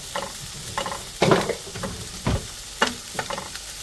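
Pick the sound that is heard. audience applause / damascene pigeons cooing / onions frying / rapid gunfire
onions frying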